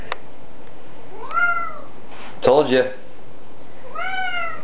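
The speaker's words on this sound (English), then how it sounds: "This cat is annoying." A domestic cat meows several times, with drawn-out, rising and falling calls close by and a brief burst of human talk between them.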